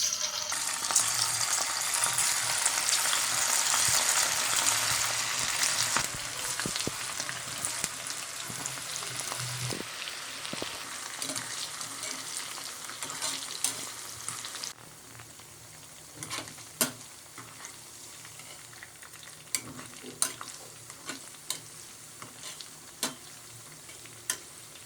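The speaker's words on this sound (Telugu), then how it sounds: "ఆయిల్ వేడైపోయిందండి. ఇప్పుడు దీన్ని డీప్ ఫ్రై చేసుకుందాం" Chicken 65 deep frying in hot oil gives a loud, bright bubbling sizzle that weakens in stages. Later, scattered clinks and scrapes of a utensil rise over a quieter hiss.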